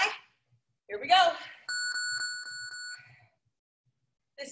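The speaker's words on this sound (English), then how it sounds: "Next bell, you're on the ground to wrap things up." Workout timer bell rings once with a bright, sustained metallic tone that lasts about a second and a quarter, then decays. An instructor talks before and after it.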